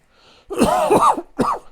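A faint breath, then a loud, harsh cough in two bursts, close to the listener with a short gap between them.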